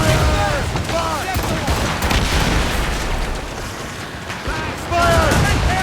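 Naval cannon fire booms and crackles through a sea battle in Assassin's Creed Rogue, dense overlapping blasts and rumbling over wind and water, with shouted voices and whistling projectiles now and then.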